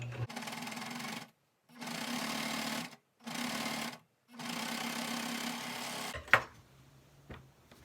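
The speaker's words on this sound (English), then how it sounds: "I'm going to fit that underneath the presser foot up against the needles, and then just come out from there" A sewing machine runs in four steady bursts of stitching as it sews the seam of a pair of sweatpants. A sharp click and soft handling noises follow once the stitching stops.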